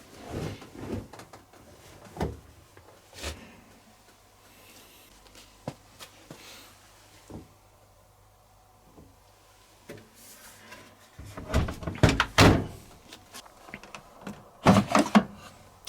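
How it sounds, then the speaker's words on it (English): A plastic detergent drawer being pushed down and pulled out of an LG DirectDrive 6kg 1200-spin WM12397TD washing machine, with several sharp clicks and knocks, quiet gaps between, and a louder cluster of clatters near the end. "You can pull out the drawer by pushing down on there and pulling it out towards you."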